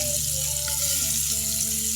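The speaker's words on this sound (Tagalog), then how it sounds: "Ngayon po pala ay nagpiprito po ako ng calamares na pusit" Squid calamari frying in hot oil, a steady close sizzle with faint bubbling that holds evenly for two seconds with no talking.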